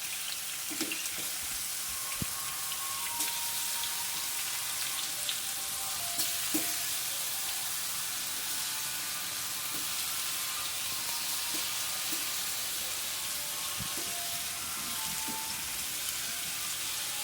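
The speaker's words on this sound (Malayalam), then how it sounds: "എണ്ണ ഇവിടെ ചൂടായിട്ടുണ്ട് ഇതിൽ നാടൻ വേപ്പൻ ഇട്ട് കൊടുക്കാം ഇത് പ്രത്യേക രുചിയുണ്ടാവും വെണ്ടക്കായ കൊടുക്കാം" Curry leaves and okra fry in hot oil in a home kitchen, giving a steady, dense sizzle that runs unbroken throughout with occasional faint clinks and stirring.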